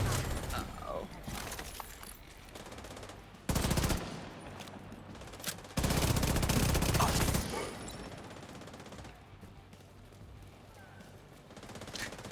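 Video game gunfire aimed at hostile contacts emerging from a sewer, loud bursts of automatic fire around 3.5–4 s and 6–7.5 s over a steady battle din, with a voice talking over parts of it.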